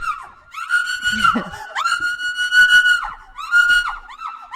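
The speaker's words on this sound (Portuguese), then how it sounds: "Isso aí é grito de medo ou é grito de, sei lá o quê?" A person lets out high, sustained screams in several long bursts with short gaps, sounding excited rather than pained, with a brief low laugh-like sound in between.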